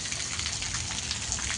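Steady rain falls in a rural farmyard during a thunderstorm, a continuous close hiss of drops pattering on surfaces with no voices.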